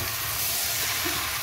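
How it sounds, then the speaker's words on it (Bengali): Prawn and jackfruit curry masala sizzles steadily in a pan, a continuous close hiss with no break and no voices over it. "চমৎকার করে কষানো হচ্ছে"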